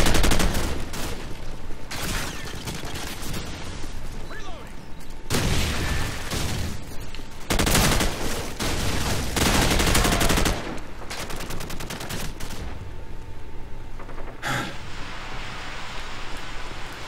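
Sustained automatic gunfire in Call of Duty 4 multiplayer, rapid rattling bursts that fill most of the stretch with brief pauses, loud and close with no voices.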